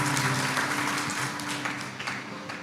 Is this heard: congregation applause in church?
yes